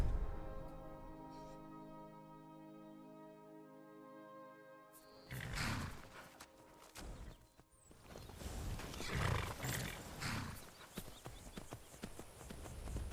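Horse riding in the video game Skyrim: hoof clip-clop and movement noise rise after a stretch of musical tones, swelling and fading, with no talk over it.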